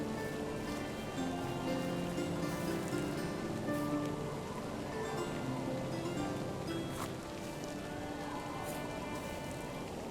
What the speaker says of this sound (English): Damn, it's raining pitchforks.